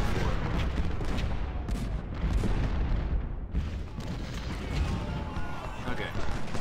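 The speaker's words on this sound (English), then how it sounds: "Be able to take out these batteries just with my artillery without even hitting inside the fort" Artillery in Ultimate General Civil War bombarding fort batteries at Nansemond River: repeated heavy booms and cannon reports rolling over a dense battle din, with a voice talking through it.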